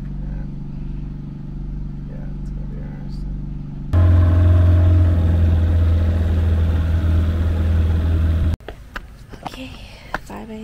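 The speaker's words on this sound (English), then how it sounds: "I'm gonna try to fall asleep on this with this generator in my ear." A generator runs on a tour boat off Komodo Island, a steady loud engine drone that is mid-level at first and then jumps louder and deeper for several seconds before cutting to quieter mixed noise with a few knocks.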